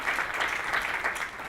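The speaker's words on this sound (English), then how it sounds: "And a round of applause for that." An audience at a Rider University political institute evening applauds steadily, a dense even wash of clapping that stays fairly loud throughout.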